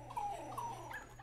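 A short dog whimper sound effect from the Super Mario Maker video game: a couple of thin, high-pitched whines over a low steady game hum, brief and fairly quiet.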